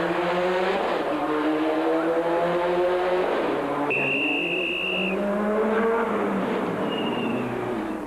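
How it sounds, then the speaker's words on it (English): Subaru rally car recovering after misjudging a hairpin on a night rally stage, its engine revving and shifting pitch loudly and continuously, with a brief sharp squeal partway through. "Here, Duplessis misjudges the hairpin, but uses the Subaru's all-wheel drive to recover."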